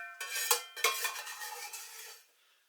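A spoon scrapes beef pasta bake sauce from a pan into a 2-litre casserole dish, giving close metallic scrapes and a couple of sharp clinks, then wet smearing that trails off into quiet.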